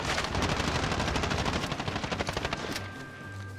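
Rapid automatic gunfire rattles in close bursts in Call of Duty Modern Warfare during a free-for-all match, then stops and leaves a faint tone.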